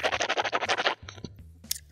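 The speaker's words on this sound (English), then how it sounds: "Oh, did you hear that? I was swishing in my cheeks." Swishing water around in the cheeks, a rapid series of close, wet sloshing pulses right at the microphone, followed by a few softer mouth sounds.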